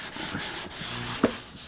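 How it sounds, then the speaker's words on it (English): Sandpaper rubbing over wood on a Martin 00-style acoustic guitar build, steady close scratchy strokes with brief pauses between passes and one sharp knock near the end. "I'm just going to sand this."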